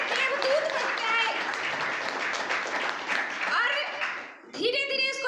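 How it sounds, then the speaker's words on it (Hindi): Audience applause at an RCM event fills the room, steady dense clapping from a crowd that fades briefly before a fresh burst, with voices and cheers mixed in. "मैं एक बार जबरदस्त ताली चाहूंगी"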